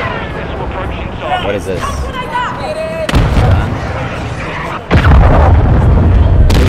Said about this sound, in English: Somebody's got a gunship, I think.